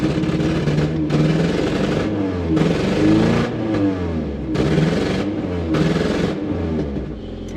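A Ford Ranger pickup, nicknamed Danger Ranger and running on vodka mixed into its gas tank, revs its engine repeatedly in loud, close bursts that rise and fall in a steady rhythm, with no talking over it.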